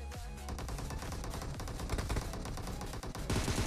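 Dense rapid gunfire in a battle royale mobile game, with continuous automatic bursts and shots in a fast rhythm, loud and close throughout.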